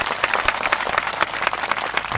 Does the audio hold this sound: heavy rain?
no